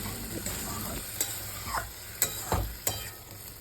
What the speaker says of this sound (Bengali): এরপরে আমি বেশ খানিকটা দুধ দিয়ে এটা আমি ফোটাতে দেব।